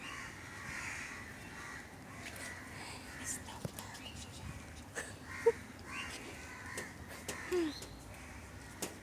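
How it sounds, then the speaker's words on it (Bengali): Crows caw now and then at a distance over a quiet outdoor background with faint murmuring. "কাকের আওয়াজ ছাড়া কিছুই শোনা যাচ্ছে না"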